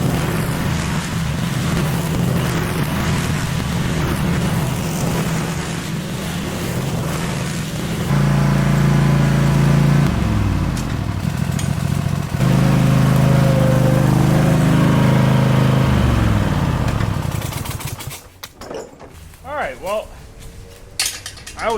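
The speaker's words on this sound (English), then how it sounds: "I love mowing when it's thick like this." Lawn mower cutting thick, overgrown grass on a neglected yard, a loud steady engine drone that bogs and swells as it pushes through heavy patches, then cuts out near the end, leaving clanks and handling noise.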